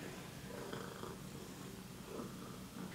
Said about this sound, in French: Donc là on a bébé Crowley qui a le hoquet et on a Pintou qui vient ronronner